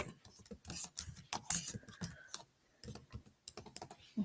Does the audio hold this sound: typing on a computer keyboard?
yes